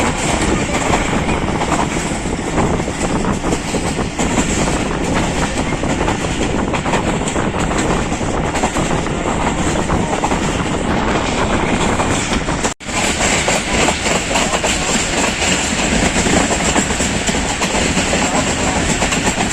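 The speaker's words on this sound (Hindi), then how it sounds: "लाहौर जंक्शन रेलवे यार्ड में दाखिल हो गई है ट्रेन" The Jaffar Express rolls into the Lahore Junction railway yard with loud, continuous rumbling and rhythmic wheel clatter, heard up close with wind buffeting, with one brief dropout near the end.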